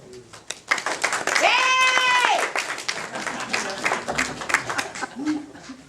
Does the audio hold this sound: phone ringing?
no